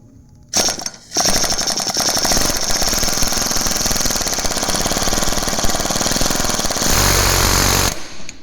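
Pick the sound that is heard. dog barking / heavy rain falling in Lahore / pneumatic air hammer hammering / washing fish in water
pneumatic air hammer hammering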